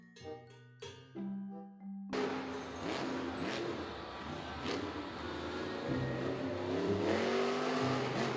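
A toy monster truck engine sound revving loudly and continuously for several seconds after a short burst of electronic tones at the start.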